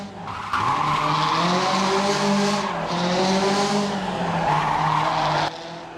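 A Ford Fiesta WRC rally car engine in Assetto Corsa roars continuously on a tarmac stage, its pitch rising and falling through revs, loud and close, with a slightly reverberant, stadium-like quality.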